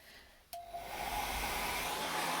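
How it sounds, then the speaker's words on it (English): A hair dryer drying a watercolor painting switches on with a sharp click and then blows steadily, a loud continuous whooshing hiss with a faint whine that holds to the end. "I'm going to dry that off with a hairdryer."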